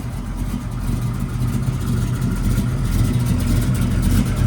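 A 1969 Chevrolet Camaro SS restomod convertible with a 383 V8 and automatic transmission runs steadily nearby, a loud, rumbling low idle that swells slightly without clear revving.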